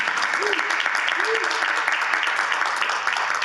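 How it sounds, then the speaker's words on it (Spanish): A church congregation applauds in a Spanish-language service, loud continuous clapping filling the hall evenly from start to finish, with a couple of brief voices rising above it. "Dale un aplauso al Señor"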